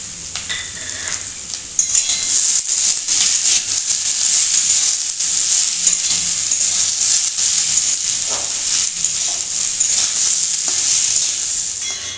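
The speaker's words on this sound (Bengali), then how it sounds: "এগুলো এখন আমি আলুর সঙ্গে ভেজে দেবো।" Boiled green peas and potatoes frying together in a pan for a singara (samosa) filling, giving a steady, close, loud sizzle and hiss with occasional stirring scrapes, and no talking.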